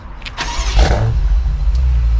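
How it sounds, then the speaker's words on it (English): A 2023 BMW X6 M Competition engine cranks and starts by remote start, then settles into a steady, low rumbling idle nearby. "With the remote start, I just have to triple tap that lock button"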